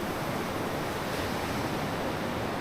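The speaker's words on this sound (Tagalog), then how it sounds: "na yung alon, hindi naman nakakatakot, hindi naman sobrang laki" Ocean waves at a beach in Puerto Princesa, Palawan, form a steady, full wash of surf with some wind noise, continuous and fairly loud with no talking.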